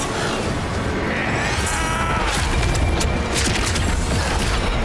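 Explosions during a boss fight against Ozma in The First Berserker: Khazan, a dense, continuous roar of blasts and crashing debris with a few sharper bursts, loud throughout.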